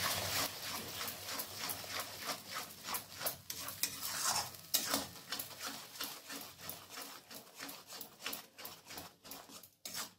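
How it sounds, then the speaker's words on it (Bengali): Tomato paste is stirred into a fried spice mix for a Bengali katla fish curry with potato and cauliflower, giving rhythmic scraping strokes over a soft sizzle, close and fairly loud, with no talk. "টমেটো পেস্টটাকে মশলার সঙ্গে ভালো করে মিশিয়ে নিতে হবে।"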